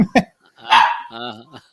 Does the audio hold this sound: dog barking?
yes